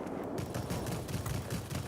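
Cannon fire from an LA-160 aircraft in World of Warplanes rattles in a rapid continuous burst, a dense, rough stream of shots under a steady engine roar.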